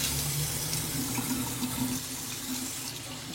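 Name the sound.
water running from a tap, rinsing off after shaving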